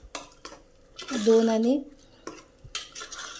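Masala rice is stirred in a metal pot, a spoon scraping and clinking against the pot in short bursts, with a voice speaking briefly between the strokes.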